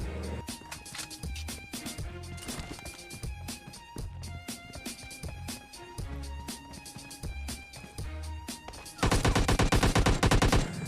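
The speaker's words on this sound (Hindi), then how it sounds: "लेकिन साइड से भी गोलियां पड़ रही थी" Rapid bursts of gunfire in the battle-royale video game PUBG, a dense string of shots over game background sound, ending in a loud sustained volley of automatic fire.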